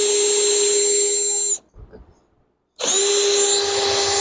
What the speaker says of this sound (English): Then we're going to secure it with those screws.